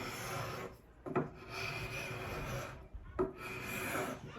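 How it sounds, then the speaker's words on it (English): A hand scraper rasps varnish off a stone-look tile in long, steady, gritty strokes, broken by two brief knocks where the stroke restarts. The scraping is close and fairly quiet, with no voices. "I'm going to be using my scraper just to get off this varnish"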